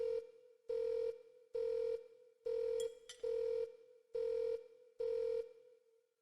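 A telephone rings in seven evenly spaced, steady bursts with short silent gaps between them, clear and alone.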